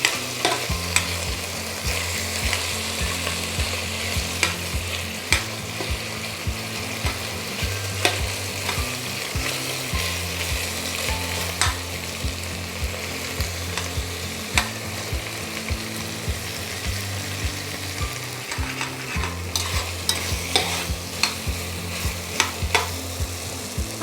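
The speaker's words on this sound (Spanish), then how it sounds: "cuando ya hemos sellado un poquito la carne y rehogado un poquito las patatas" Chicken meatballs and potatoes brown in a pan over a long stretch. A constant close sizzle runs under repeated scraping and stirring strokes, with frequent metallic taps from the utensil.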